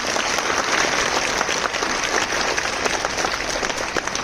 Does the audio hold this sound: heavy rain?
no